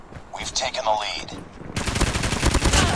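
Rapid gunfire from the BK-57 rifle in the video game Call of Duty Mobile, a dense loud burst taking over the second half after brief quieter game sounds.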